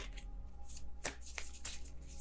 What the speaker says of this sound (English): Kind of sloppy shuffle there.